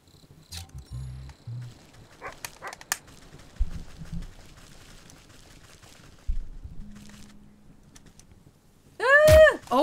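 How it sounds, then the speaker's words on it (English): A dog barks and snarls in the video game Wytchwood, coming through as a few short growling bursts over a quiet windy ambience, then a sharp loud attack near the end. "Oh, I just got bit by that dog."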